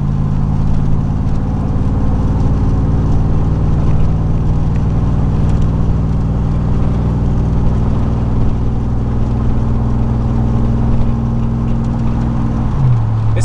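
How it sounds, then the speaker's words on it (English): A steady, droning exhaust from a 2000 Chevrolet Silverado pickup with a 4.8 engine and a new, not yet broken-in dual-in dual-out muffler hums at a constant low pitch while cruising on a highway, with a brief shift in tone near the end and no talking. "This muffler sounds kind of good, but at the same time, it's not broken in"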